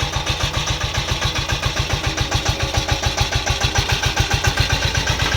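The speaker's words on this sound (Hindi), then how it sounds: "ट्रैक्टर घूम के वापस आएगा" A Sanedo mini agriculture tractor engine chugs steadily nearby while the machine turns around, its fast regular exhaust pulses holding a constant loud rhythm throughout.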